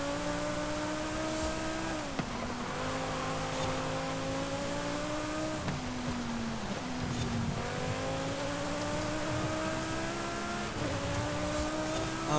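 A Lamborghini Huracán STO racing in Forza Horizon 5 in S1 class: a steady, loud engine note climbs through the revs, drops at each gear shift and climbs again, over and over.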